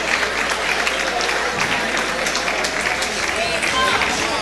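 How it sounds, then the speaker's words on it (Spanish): A room full of people applauding at the Blogday Peru 2010 event, dense sustained clapping throughout, fairly close, with some voices mixed in underneath. "Aplausos, por favor, para ellos."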